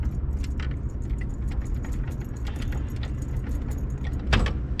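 A bunch of keys jangles and clinks in short, bright bursts while they are tried in an old Datsun, with one louder rattle near the end over a low engine rumble.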